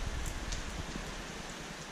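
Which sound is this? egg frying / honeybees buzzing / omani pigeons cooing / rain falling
rain falling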